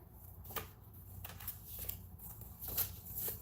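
Oracle cards handled and pulled from a deck in a quiet room, giving soft papery slides and light flicks spread over a few seconds, faint and close, with no talking.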